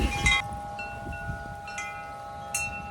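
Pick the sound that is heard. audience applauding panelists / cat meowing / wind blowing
wind blowing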